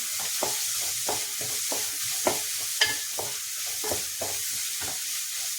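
Rice being fried and stirred in a pan at home, with a steady sizzle and repeated scraping strokes of the spoon against the pan at an even rhythm, close and moderately loud with no talk.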